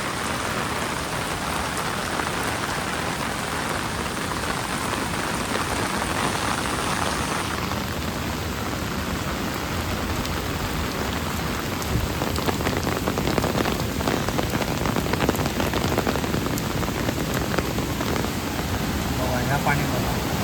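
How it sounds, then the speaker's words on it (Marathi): Heavy monsoon rain pours steadily on surfaces in a Konkan village, a dense, loud, continuous roar without pause throughout. "जबरदस्त पाऊस येलेला असा आता परत."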